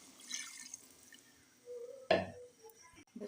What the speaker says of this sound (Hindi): यहाँ पे पानी ऐड करेंगे।